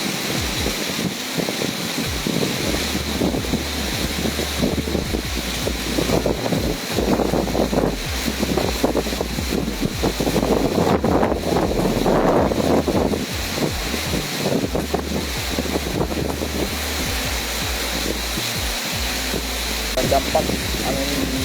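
Strong wind and heavy rain at Pangandaran beach, a constant roar of gusts buffeting the microphone with a low rumble beneath, while a voice speaks over it.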